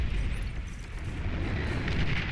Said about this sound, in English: Oh, yes, massive explosions.